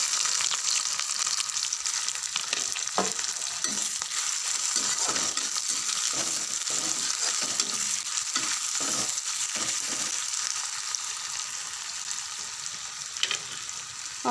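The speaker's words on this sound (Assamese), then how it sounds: "পিঁয়াজখিনি ৰঙচুৱা হোৱালে ভাজিম" Chopped onions fry in hot oil in a pan with a steady sizzle, broken by repeated scraping and stirring strokes. There is no talk.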